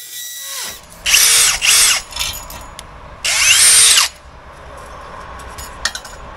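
A power drill fitted with a blunt bit bores into a cavity wall on a small home extension build, with loud whining bursts that start and stop, separated by quieter gaps and small knocks.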